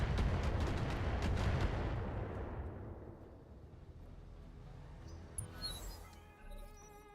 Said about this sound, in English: that's a lot of missiles coming in.